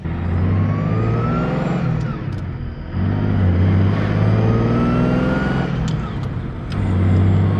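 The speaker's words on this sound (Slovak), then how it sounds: "teraz keď preradíte, tak úplne to má taký pekný mechanický zvuk" A Maserati 3500 GTI engine revs loudly and up close, with its note dipping briefly twice as the gears are shifted before pulling strongly again.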